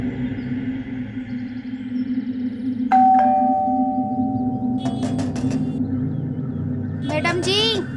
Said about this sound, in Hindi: तभी घंटी बजी।